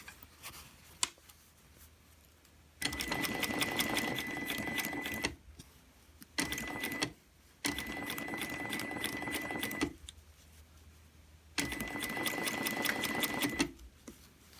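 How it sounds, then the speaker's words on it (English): Bursts of rapid sewing machine stitching along an invisible zipper, several runs of a few seconds each separated by quiet pauses, close and clear. "And continue stitching."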